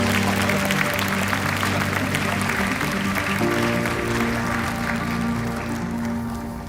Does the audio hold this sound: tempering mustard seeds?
no